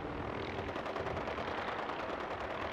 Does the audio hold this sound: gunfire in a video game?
yes